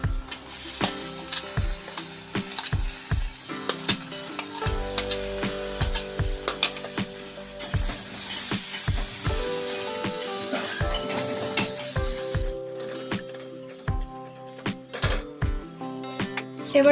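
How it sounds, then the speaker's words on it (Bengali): Chopped onions hit reused egg-frying oil with a loud steady sizzle, joined by repeated scraping and clinking as a utensil stirs them around the pan; the hiss eases near the end. "এবার আমি পেঁয়াজ কুচিগুলোও ভাজার জন্য দিয়ে দেব।"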